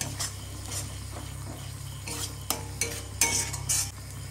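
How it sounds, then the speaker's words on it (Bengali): Coriander and turmeric powder being sautéed in a pan give a soft, steady sizzle, with a spoon scraping and stirring in short bursts and a few louder clinks toward the end. "তারপরে মশলাটা কষিয়ে নিই।"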